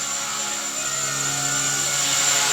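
A Blade 150S RC helicopter flies indoors in a living room, its high-pitched electric motor and rotor whine steady and close, slightly rising in intensity.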